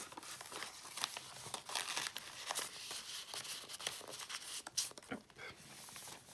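Paper is crinkled and folded by hand, with a steady run of close, dry crackles and rustles and a few sharper crisp bursts, fairly quiet, with no voices.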